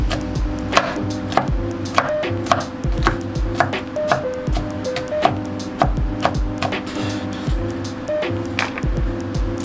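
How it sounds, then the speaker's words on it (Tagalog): A knife rough-chops food on a cutting board in quick, steady thuds, loud and close, with a low hum underneath. "Ito rough chop lang"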